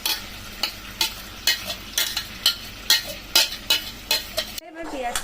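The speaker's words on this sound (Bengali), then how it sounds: "এবার পেঁয়াজটাকে ভাজবো" Ground onion paste fries in hot oil with two dried red chilies, giving a bright sizzle and a brisk, regular rhythm of spatula strokes scraping the pan, close and fairly loud, with one short pause near the end.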